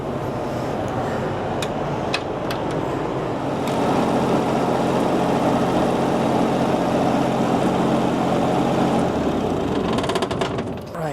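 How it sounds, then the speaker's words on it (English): An Onan diesel generator in an RV settles into a low idle, giving off a steady, loud, close mechanical drone that stays even throughout before tapering slightly at the very end. "Generator just went to low idle"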